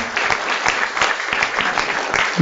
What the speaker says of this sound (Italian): Quindi un applauso al signor Manca